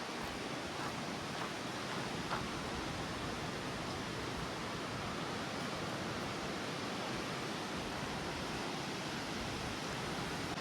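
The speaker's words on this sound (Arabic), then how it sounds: "تسمعوا معايا الصوت ديال الشجر اللي كيتسمع بحال شي شلال ولا بحال البحر" Steady broadband rush of wind through forest trees, roaring evenly like a distant waterfall or surf, continuous and unbroken with no voices.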